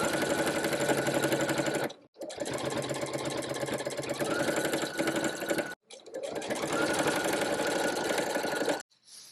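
A sewing machine stitches through a fur clutch in close, rapid continuous bursts, stopping briefly twice and again at the end.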